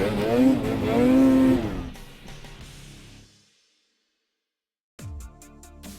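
An 8000 RR race replica snowmobile revs hard with a loud, rising and falling engine whine for about two seconds, then fades to silence before a brief mechanical burst returns near the end.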